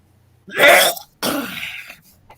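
A woman gives two harsh, raspy coughs close by, a short one followed by a longer rough one, then quiet.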